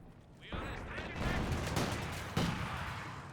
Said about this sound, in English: PTRS firing away.